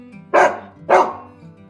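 Two loud dog barks, spaced about half a second apart, close by, with a faint low hum underneath.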